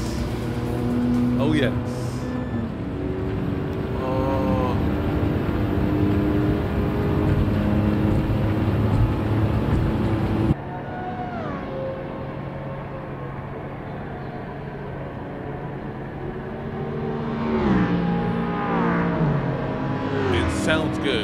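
Car engines in Gran Turismo 7, heard as a steady revving drone with rising and falling pitch sweeps as the car accelerates and shifts, loud and close, while a person briefly speaks over it.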